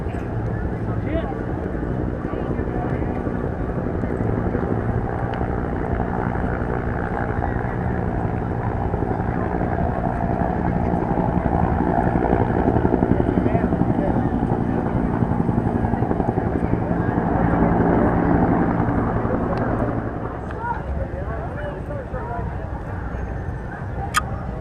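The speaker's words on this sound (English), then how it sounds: "Some kind of a German plane." A German aircraft flies overhead at an air show, a loud, steady propeller drone that swells in the middle and fades near the end, with people talking nearby.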